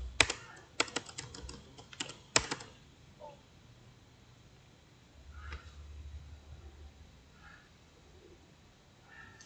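A computer keyboard clatters as commands are entered into a Packet Tracer switch terminal, in a quick burst of close keystrokes followed by a few sparse taps, with no talking.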